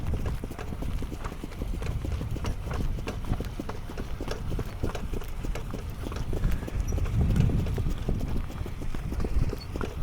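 A trotter's hooves clip-clop on a country road in a quick, steady, even rhythm. The sound is fairly close, with a low rumble of outdoor noise underneath.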